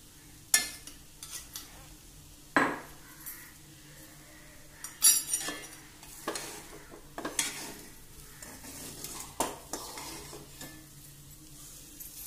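A spoon scrapes and taps as a chapathi roll vegetable filling seasoned with pepper powder is stirred in a pan, giving intermittent clinks and scrapes over a faint sizzle, with no voices.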